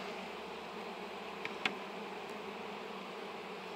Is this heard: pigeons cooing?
no